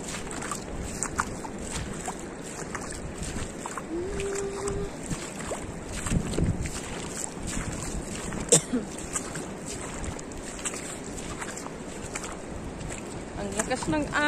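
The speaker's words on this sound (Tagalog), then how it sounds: "Ang lakas ng alon." Strong sea waves wash and churn steadily throughout, a loud broadband rush with wind buffeting the microphone, while a person talks now and then over the water.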